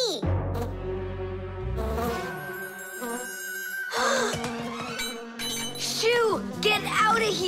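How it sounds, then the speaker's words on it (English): Buzzing cartoon bee sound effect in a children's animated show, a wavering insect drone threaded through music and character vocal sounds, fairly loud and continuous. "It's just a plain old bee!"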